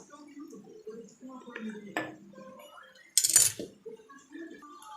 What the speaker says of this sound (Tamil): ஸ்பகட்டி போட்டு நல்லா கலக்கி விட்டுக்கலாம்